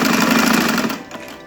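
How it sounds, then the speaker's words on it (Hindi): Sewing machine stitching a velvet baby party frock, a steady close whirring drone that runs loud for about a second before easing off, with no voices. "तो ये इसको हम सिलाई करेंगे"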